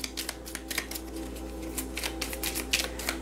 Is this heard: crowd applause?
no